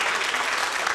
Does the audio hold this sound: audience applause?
yes